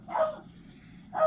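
Two sharp dog barks, close and moderately loud, spaced about a second apart over a windy outdoor background hum.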